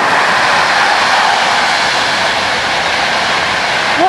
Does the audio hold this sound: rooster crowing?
no